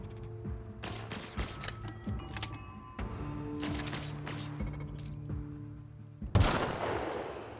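Rapid gunfire bursts from enemies in the video game The Outer Worlds, repeated volleys over a steady background hum, ending in a louder impact.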